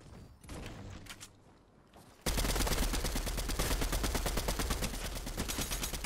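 Rapid assault rifle fire in Fortnite Chapter 3 crackles in a long unbroken burst of evenly spaced shots, loud and close, after a quieter stretch of clicks and movement.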